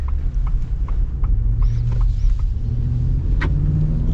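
A Ford Super Duty truck's naturally aspirated gas V8 pulls under acceleration, a deep steady engine rumble heard from inside the cab, with light creaks and clicks over it.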